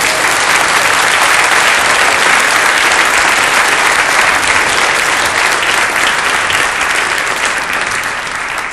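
A theater audience at a magic show claps loudly and continuously after a card trick, a dense, even wall of applause that stays strong throughout and eases only slightly at the end.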